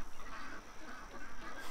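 Ducks quacking outdoors, a faint cluster of nasal quacks and honks at a distance against a steady hiss of background noise.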